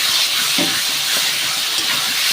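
Water poured into a hot pan of spiced snakehead fish curry with new potatoes sets off a steady, loud broadband hiss of steam that carries evenly from start to finish, with no voices.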